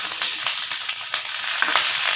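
Onions hit hot oil with dried chillies, ginger and garlic for a chutney, crackling in a bright, continuous sizzle broken by quick stirring scrapes.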